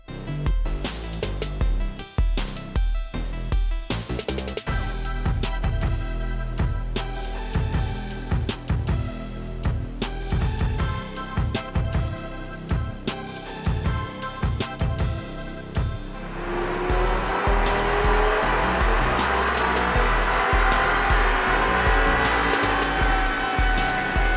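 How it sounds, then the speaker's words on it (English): Nitrous-fed five-cylinder Audi RS3 on a chassis dyno, a loud continuous engine roar that climbs steadily in pitch through the pull, dense and unbroken with no voices over it. "It is his dyno, it is his car. Let's see what it does to the dyno."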